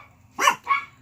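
Dogs barking indoors, two close, sharp barks in quick succession, loud and alone with no talking.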